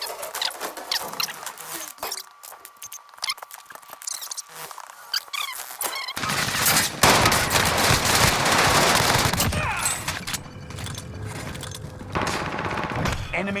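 Sten submachine gun fire in a first-person shooter game, rattling in rapid bursts amid dense battlefield effects and occasional voices, growing to a heavy, continuous barrage mid-clip before tapering into scattered shots.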